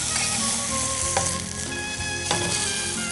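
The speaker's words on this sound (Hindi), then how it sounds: "सब्जियां हैं वो भी पक रही हैं इसमें और साथ ही साथ इसमें चिकन जो है वो भी पकता चला जाएगा" Chicken escalops cooking in a pan alongside vegetables give a steady, close sizzle and fry crackle throughout, with a couple of brief clinks from utensils and no talk.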